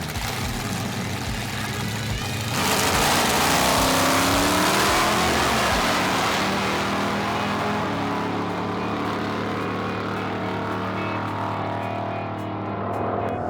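A Buick drag car makes a pass at a drag strip during the Buick GS Nationals event. A loud engine roar builds after a couple of seconds, with rising and falling harmonics as it accelerates away, then gradually fades into the distance.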